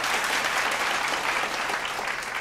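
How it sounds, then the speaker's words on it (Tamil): Audience at a Tamil festival stage show giving a big round of applause to welcome a guest, a steady, dense, full-room clapping that holds without pause. "நாஞ்சில் விஜயன் அவர்களுக்கு ஒரு பெரிய கரகோஷம் கொடுத்து அவரை வரவேற்கிறோம்"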